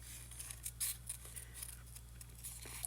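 Scissors cutting paper for handmade card making, a series of small crisp snips at an uneven pace, close but quiet over a low steady hum.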